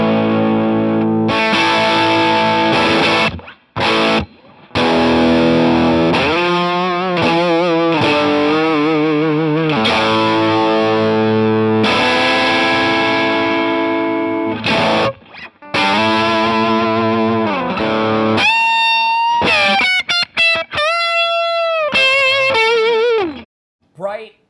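Electric guitar through a T-Rex Mud Honey II overdrive pedal plays chords and bending lead lines, loud and close, with brief pauses and a gritty, distorted edge throughout.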